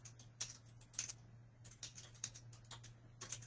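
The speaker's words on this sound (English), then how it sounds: "we can type in a description for each one" Typing on a computer keyboard in a quiet room, short bursts of soft key clicks in irregular clusters with pauses between them, fairly faint over a steady low hum.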